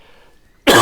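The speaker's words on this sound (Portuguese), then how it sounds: "eu ainda vou dar umas tossidinhas aqui de vez em quando" A single sudden cough from someone still recovering from the flu bursts in loud and close after a quiet stretch, cut off at the end.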